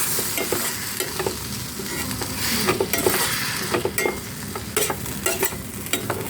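Rava (semolina) being stirred with hot water for Kerala upma, a busy run of close, rhythmic spoon scrapes and clinks against the pan over a soft sizzling hiss, with no talking.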